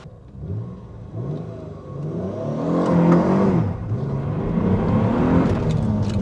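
A 1996 Dodge Stealth R/T twin turbo launching from a stop on a worn original clutch, the engine revving up loud and close, then holding a strong, rising drone as the car pulls away.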